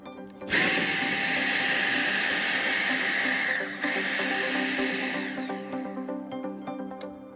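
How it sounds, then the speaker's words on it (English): A Dyson V7 cordless stick vacuum runs loud and steady for about five seconds with a high whine, then spins down and fades. "Last but not least, we have our stick vac, so let's see how it does."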